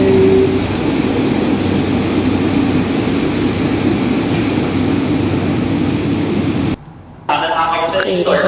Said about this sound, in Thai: ขบวนรถไฟของเรามาฮอด